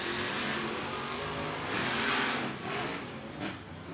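A monster truck engine roars at the starting line of a Monster Jam stadium event, a loud, steady broadband rumble with a swell and surge in the middle, heard alone without talk.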